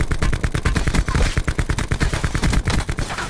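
Sustained automatic gunfire in Call of Duty Blackout, a dense, loud stream of close shots fired in quick rhythmic bursts for the whole stretch.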